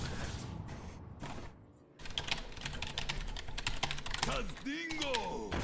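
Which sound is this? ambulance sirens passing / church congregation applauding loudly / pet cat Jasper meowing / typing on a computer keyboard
typing on a computer keyboard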